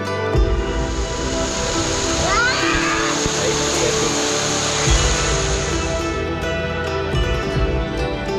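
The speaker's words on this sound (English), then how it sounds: "Let's go check out this waterfall." Fortescue Falls in Karijini National Park pours as a steady, loud rush of falling water that runs throughout, while people talk over it.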